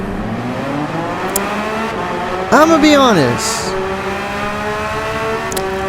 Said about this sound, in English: the next car that we're going to test is, of course, the Porsche